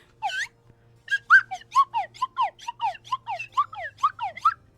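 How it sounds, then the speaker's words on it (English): A slide whistle sound effect opens with a single gliding swoop, pauses, then launches into a fast, loud chain of bright rising and falling slides, heard alone without talk. "Yes, it was the slide whistle."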